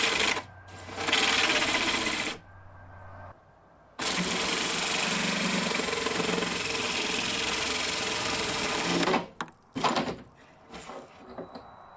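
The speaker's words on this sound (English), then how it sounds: "Okay, I drilled my hole and that went totally awesome." Power drill boring a hole through the wall of a converted bus, a steady loud whine running about two seconds, pausing, then grinding continuously for over five seconds before a few short bursts and clunks.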